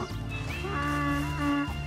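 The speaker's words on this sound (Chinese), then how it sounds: "可爱的小毛驴在旁边。" Donkey in Red Dead Redemption 2, braying loudly and close with a drawn-out harmonic call lasting a couple of seconds.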